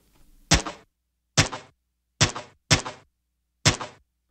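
A raw field recording of gunshots: five sharp, dry cracks at uneven intervals, each with a brief decaying tail, fairly thin and lacking deep low-end boom, with no voices.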